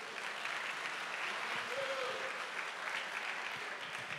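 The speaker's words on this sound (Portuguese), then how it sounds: "aplauda o Senhor" Sustained applause from a church congregation during a Portuguese-language sermon, a dense even roar of many hands clapping at moderate level, with a faint voice or tone briefly surfacing in the middle.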